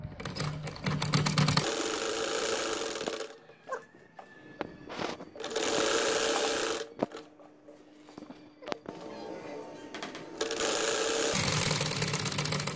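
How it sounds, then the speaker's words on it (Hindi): Sewing machine stitching a seam on a poncha, running in loud bursts of steady mechanical whirring separated by quieter pauses with faint handling clicks, no talk. "इसी लाइन पे आपने रखकर इसको सिलाई लगानी है"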